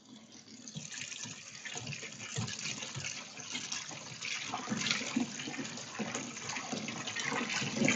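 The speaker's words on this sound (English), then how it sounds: "Then I'm gonna go to the sink. Going to wash and chill the noodles." Tap water running steadily into a kitchen sink while pasta noodles are rinsed and chilled, a continuous splashing gush close by with no voices.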